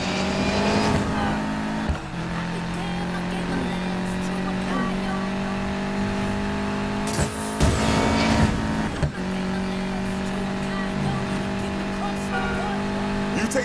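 Video game race cars in Need for Speed Payback roar and rev continuously at close range, with bursts of acceleration and passing engine surges, under a steady droning engine tone; people talk over the racing.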